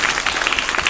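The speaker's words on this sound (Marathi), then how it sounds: "खूप खूप टाळ्या वाजवूयात आपण" Audience at a school commemoration event breaks into a short, dense burst of clapping, steady and lively throughout with no talk over it.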